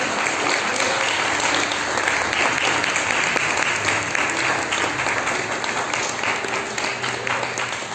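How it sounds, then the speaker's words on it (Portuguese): A church congregation claps steadily and loudly throughout a Portuguese-language worship service, dense sustained applause with no pause. "Quem pode dar um aplauso ao Espírito Santo por isso?"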